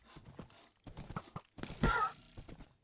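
A horse in the Minecraft video game gives a brief whinny and clip-clop, rising over a short burst of background game noise, with a person talking before it.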